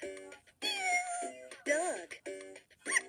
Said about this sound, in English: Say cat.